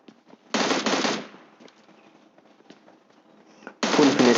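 Rapid automatic gunfire in the mobile shooter game PUBG Mobile Lite, one loud close burst near the start, then a quieter gap with faint game sounds, then another burst at the end.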